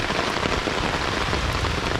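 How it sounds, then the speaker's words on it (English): Steady rain patters on a tent during a camping trip, a dense, even drumming of drops that stays close and constant throughout, with no voices. "It's the best camping in the rain when you got a good tent."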